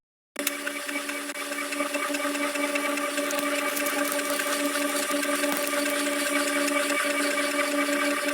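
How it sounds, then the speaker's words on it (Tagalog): A Canon Pixma 2540S inkjet printer, faulty and no longer printing, starts up abruptly and keeps running a copy with a steady mechanical whir and hum, continuous and fairly loud. "Subukan muna nating mag-Xerox para maipakita ko sa inyo na hindi na talaga siya nagpiprint."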